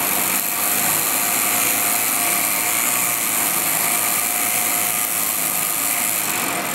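A small DC electric motor spinning fast at around 4,000 rpm, giving a steady high-pitched whine with broadband hiss, close and constant throughout with no talk.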